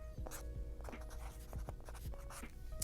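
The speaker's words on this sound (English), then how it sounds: "I always write the common name of the gecko as well." A pen scratches out the common name of a gecko on a cardboard shipping box for live geckos, quick close strokes in short bursts with small pauses, quiet and alone.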